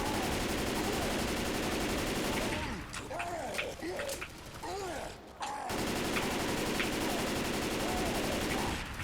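Bursts of gunfire in the zombie shooter game Left 4 Dead 2, layered under a dense, loud game soundscape, with a short quieter stretch of scattered shots and squeals in the middle.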